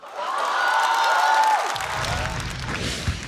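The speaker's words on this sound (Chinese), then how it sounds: "掌声有请黑灯。" Audience applause and light cheering at a live Chinese stand-up comedy show, a steady dense clapping that swells then eases over a few seconds, close and loud.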